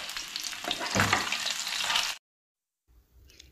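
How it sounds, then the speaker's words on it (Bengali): Katla fish pieces frying in hot oil give a loud, dense sizzle with crackling spatters for about two seconds, then cut off abruptly, followed by a fainter, quieter sizzle. "মাছগুলো ভাজা হয়ে গেছে, মাছটা আমি তুলে নিচ্ছি।"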